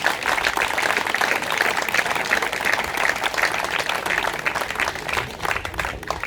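Sustained applause from a crowd at a youth national boules tournament at an outdoor boulodrome, honouring the coaches and instructors; dense, steady clapping fills the whole stretch at an even level.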